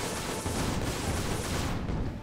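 A harpoon gun fires aboard an airship in Guns of Icarus, a loud, noisy blast with a booming burst that dominates the moment.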